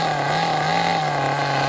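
The small electric motor of a Tamiya Terra Crusher RC truck whirs steadily under light throttle with a spinning spur gear, giving a constant close-up hum and whine.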